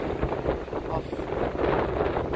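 Strong storm wind buffeting the microphone at a jetty in Semaphore, South Australia, with waves surging in a constant loud roar and rumble, no voices.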